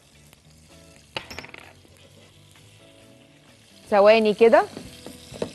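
Cumin seeds and coriander sizzle in melting ghee, a quiet steady frying hiss that swells into a loud bubbling crackle near the end as more goes into the pan, with someone speaking briefly over it.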